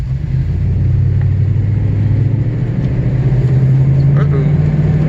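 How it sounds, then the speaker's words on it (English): A car drives along roads in Girard after a summer storm, with a steady, loud low road rumble and engine drone running throughout, faint voices occasionally audible beneath. "We are out driving around making sure the roads are clear."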